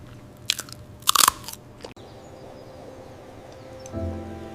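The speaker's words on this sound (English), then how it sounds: "Listen to that crunch in every bite." Crisp crunchy bites of lotus stem from a sweet and sour shrimp soup, a few sharp close crunches followed by quieter chewing, with no talk.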